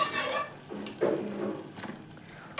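A spoon stirs chilli powder into a pot of toor dal rasam, giving soft scraping and clinking with a faint bubbling sizzle; the sounds come close but quiet and arrive in uneven strokes.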